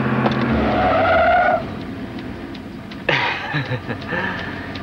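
A car brakes hard at a red light, its tires giving a sustained high screech for over a second before it stops, followed by voices and a sharp thud.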